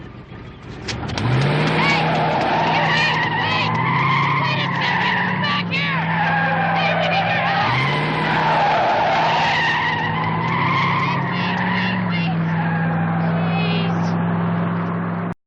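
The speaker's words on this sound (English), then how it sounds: "the person in the car doesn't like helping people to the point that they pull some illegal driving maneuvers just to get away from Max and Karen." A car pulls illegal driving maneuvers, its tires screeching in long, loud, wavering skids over a revving engine, with several squeals following one another.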